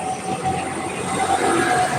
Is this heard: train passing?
yes